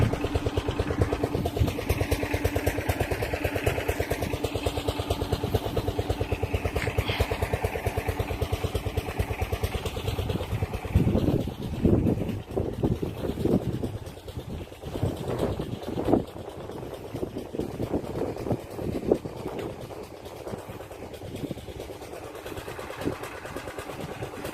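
An engine-driven water pump runs at night while irrigating a rice field, a continuous rough, clattering mechanical drone with a steady low throb that shifts in tone partway through.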